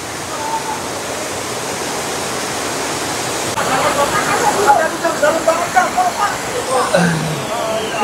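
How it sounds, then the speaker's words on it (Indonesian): Torrent of rushing water, a broad steady roar throughout, joined midway by people talking nearby over the flow. "Ada deras sekali airnya nih."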